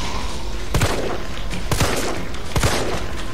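Gunshots in the Resident Evil 3 demo video game, three sharp loud shots spaced roughly a second apart over a steady background hum.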